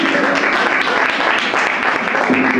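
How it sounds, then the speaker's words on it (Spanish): An audience claps loudly at a rap event, a dense continuous burst of applause filling the whole moment with a little crowd noise mixed in. "Grande, fuerte el aplauso."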